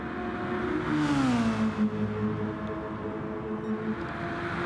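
A 2016 Nissan race car engine in GT Sport revs and sweeps its pitch up and down, a steady loud drone with clear harmonic whine and no talk over it.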